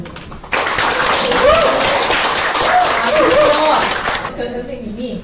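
An audience gives a loud round of applause welcoming a speaker at a community event, dense clapping starting abruptly and sustained for several seconds while voices chatter and laugh over it.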